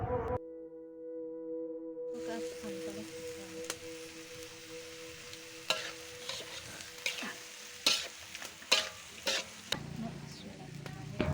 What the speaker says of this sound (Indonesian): Lalu, aduk-aduk kembali.